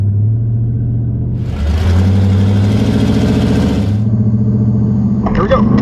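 Car engine idling loudly at a drag strip right beside the listener, a deep steady rumble with a lumpy pulsing tone and subtle pitch shifts, a burst of broadband roar in the middle, with brief voice-like sounds near the end.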